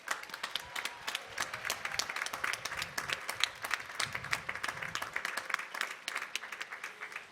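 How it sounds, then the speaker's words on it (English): Sustained audience applause at a college commencement for Endicott's 2021 undergraduate graduation, dense clapping from a large crowd filling the whole stretch at steady loudness. "join me in honoring all members of the Endicott community who made this possible with a well-deserved round of applause"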